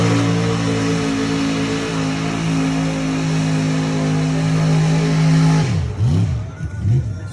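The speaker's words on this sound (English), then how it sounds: "Truck sound good though, man." A truck engine holds a steady, loud, throaty drone, then its pitch sweeps up and down near the end as the engine revs.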